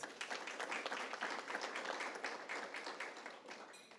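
An audience at a housing forum claps for a commissioner, with steady, fairly faint applause spread through the room that thins out toward the end.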